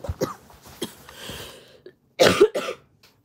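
Several harsh coughs come in two bursts, a cluster of short hacks followed by a louder, heavier fit after a pause, close and without talk.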